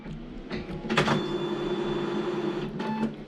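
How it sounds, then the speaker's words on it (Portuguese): A Brother printer switched on and running, giving a steady mechanical whir with a few louder clunks and rattles as it starts up, close by and alone. "Liguei a impressora."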